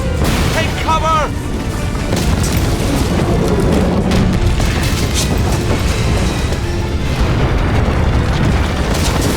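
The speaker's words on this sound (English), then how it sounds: "Bomb! Get down!" A bomb goes off in Broken Sword 3: The Sleeping Dragon, a loud, dense blast rumbling on as a continuous roar across the whole stretch, with a brief voice audible early on.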